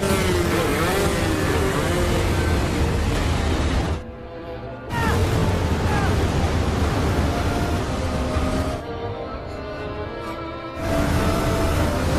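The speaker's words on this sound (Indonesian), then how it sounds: "Tang pun langsung merebut jet ski anak buah Broto dan berusaha menolong Mia." A jet ski engine roars in an action movie chase scene, loud and continuous with a droning rumble, dropping briefly twice before surging back.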